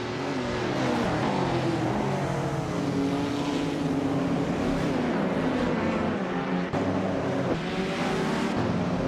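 A classic 1977 Lancia Stratos HF race car in a video game race, its engine droning and revving steadily and loudly throughout alongside other cars, with no voices.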